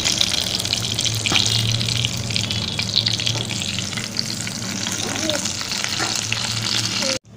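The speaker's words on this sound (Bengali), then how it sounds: "পটলগুলোকে ডাল ডাল করে ভালো করে ভেজে নেব।" Pointed gourd (potol) fries in oil in a pan with a loud, continuous sizzle and faint stirring scrapes close by, running steadily until it cuts off at the end.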